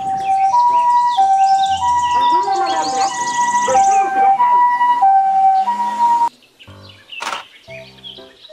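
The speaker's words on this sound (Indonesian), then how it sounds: "Mobil ambulan." A toy ambulance siren wails in a steady two-tone pattern, loud and close, over faint electronic chirps, then cuts off, leaving a few brief clicks and tones.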